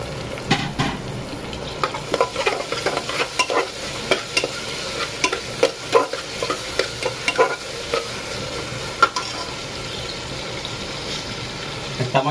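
Tomatoes frying in oil in a pan with frequent stirring, a close, continuous sizzle broken by sharp scraping clicks of the spatula, faintly over a soft background hum.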